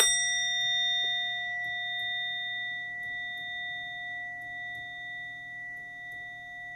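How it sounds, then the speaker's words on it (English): A ritual bell rings once with a bright, clear strike, then its pure tone hangs and slowly fades over several seconds in a quiet room. "May the sound of the bell clear all negativity from your mind, your body, your spirit."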